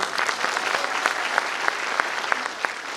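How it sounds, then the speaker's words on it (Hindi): Loud, enthusiastic applause from an audience at an ITC leadership speech event, dense clapping with sharp individual claps standing out, steady throughout with no talk over it. "दीपेंद्र सर के लिए एक बार जोरदार ताली"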